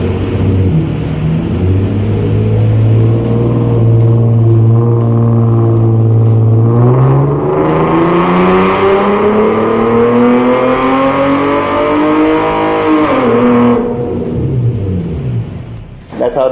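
Hyundai Genesis 3.8L V6 on a dyno after an ECU remap, revving loud and close as the pitch climbs steadily through a long pull, then drops off near the end.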